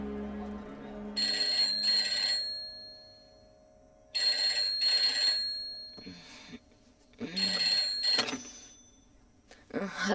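A telephone rings in three loud, bright bursts, each a pair of quick trilling rings with short gaps between, followed by a few faint clicks and a brief voice.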